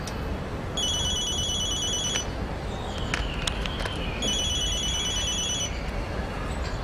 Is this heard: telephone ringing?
yes